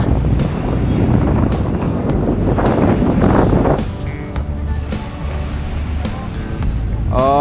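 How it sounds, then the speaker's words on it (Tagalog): Strong wind buffets the microphone at Dolomite Beach on Manila Bay, a steady loud rumbling roar with gusts, surf faintly beneath, no talk. "lakas ng hangin rinig nyo naman"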